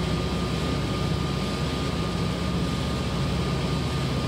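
Bombardier Bi-Level train at full throttle on the San Bernardino Line in Train Sim World 5, a loud, steady engine drone with a sustained tonal hum, alone without talk.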